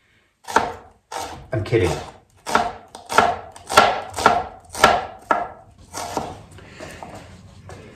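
Three-quarters of an onion gets chopped on a board with a knife, about a dozen crisp, fairly even chops close up, joined by a brief spoken remark.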